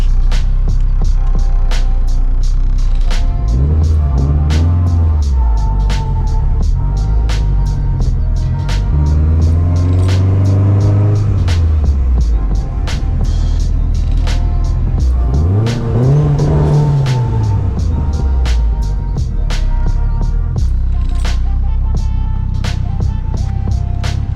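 An all-wheel-drive Honda Civic Type R being driven, engine droning loudly and steadily throughout, with several rising and falling revs as it accelerates and shifts, close and continuous.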